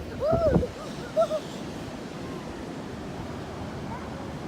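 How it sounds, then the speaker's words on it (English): Beach surf wash runs steadily and softly through the whole stretch, with wind noise on the microphone; a brief voice-like call sounds near the start, followed by two short bumps. "Yay, we're at the beach."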